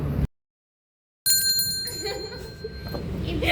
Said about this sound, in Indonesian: kita harus bunyiin lonceng buat manggil yang punya